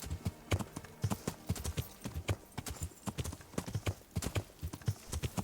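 Rapid, steady clip-clop of horse hooves trotting in the video game Kingdom Come: Deliverance, loud and close, with a rhythmic pattern throughout.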